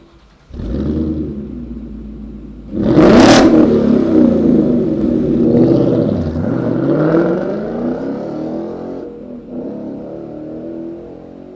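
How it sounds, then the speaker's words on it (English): A car fitted with a Borla S-Type aftermarket exhaust passes by, its engine note swelling sharply into a loud, raspy, rumbling roar that holds steady as it goes, then fades slightly near the end. "You're starting to get that raspy sound, definitely more combustion noises coming out of there, not so muffled anymore."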